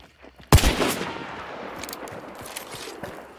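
A single sharp gunshot cracks out loudly in Hunt: Showdown, followed by a long, fading echoing tail and faint low rumble, with no talking over it.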